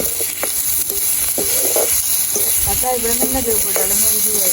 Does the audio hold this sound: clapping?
no